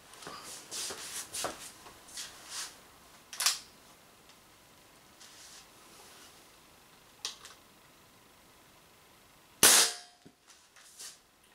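A Dan Wesson 715 .177 pellet revolver with a 2.5-inch barrel fires at a steel target, giving one sharp loud crack near the end among fainter handling clicks and taps.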